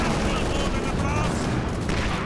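Katyusha rocket barrage in Company of Heroes 2, a dense continuous rumble of launches and blasts rolling through the whole stretch with a talking voice underneath.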